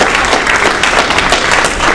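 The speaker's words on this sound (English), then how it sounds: "Round of applause" An audience at a religious program gives a round of applause, a loud, continuous patter of many hands filling the room evenly from start to finish.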